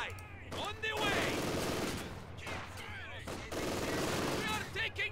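Bursts of rifle and machine-gun fire crackle through a Company of Heroes 2 video game battle, rising in dense volleys over a low combat rumble while soldiers' voices shout between the shots.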